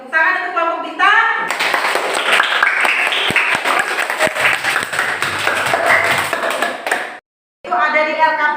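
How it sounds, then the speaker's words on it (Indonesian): Schoolchildren in a classroom clap for the Bintang group, a loud, sustained burst of many hands lasting several seconds before stopping abruptly, with a teacher speaking just before and after. "Tepuk tangan untuk kelompok Bintang."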